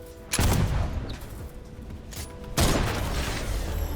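Gunfire in a first-person shooter video game, two loud close bursts of rapid shots, the first at the start and the second later, with a rattling tail between them.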